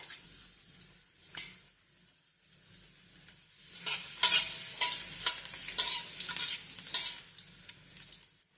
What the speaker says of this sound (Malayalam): നാലോ അഞ്ചോ വെളുത്തുള്ളിയുടെ അല്ലി നല്ലപോലെ ചെറുതായിട്ട് അരിഞ്ഞെടുത്തിട്ടുണ്ട് ഇത് നമുക്ക് ഇട്ട് നല്ല പോലെ ഒന്ന് വഴറ്റിയെടുക്കാം